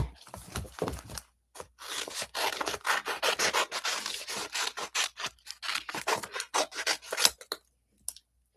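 Repeated scraping, snipping strokes of scissors working through paper, close up, in irregular bursts with brief pauses between cuts.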